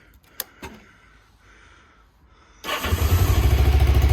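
A 33-year-old Kawasaki motorcycle engine fires up after a few quiet clicks and handling noises, then settles into a loud, steady, close rumble for the rest of the clip.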